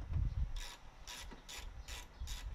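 A ratchet tightens 10 mm bolts on a Hyundai Sonata N Line car bumper during a Velossa Tech Big Mouth install, giving five short, close bursts of crisp ratcheting clicks with brief pauses between them.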